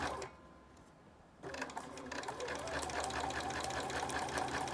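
A Bernina sewing machine with free-motion embroidery foot #24 outlining petals on stitched sinamay, starting after a brief pause into a steady, close, rapid mechanical whirring and clatter.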